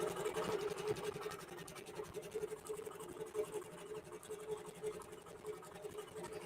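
A QBOT robotic quilting machine stitches a quilt with a fast, even mechanical whir and rapid needle chatter, steady and quiet at close range.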